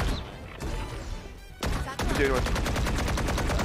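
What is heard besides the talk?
gunshots in the video game Valorant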